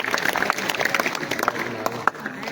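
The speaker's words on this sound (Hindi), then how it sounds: "एक बार जोरदार तालियां दीजिए।" Audience at a learner driving school session breaks into lively applause, a dense burst of many hands clapping steadily for the whole stretch, fairly close and loud.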